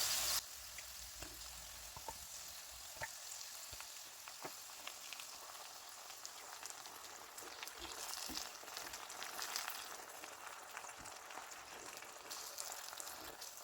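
Steady sizzling and bubbling from a pan of sour cream and vegetables stewing, with faint clinks and scrapes of stirring throughout.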